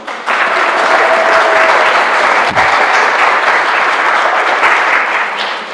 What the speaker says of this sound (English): All right, give Olivia another round of applause.